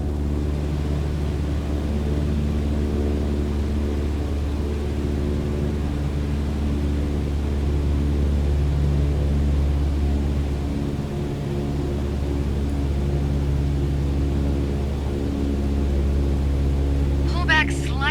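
A light aircraft engine roars steadily at full throttle while climbing in Microsoft Flight Simulator 2020, a loud, constant droning hum that fills the whole stretch with slight fluctuations.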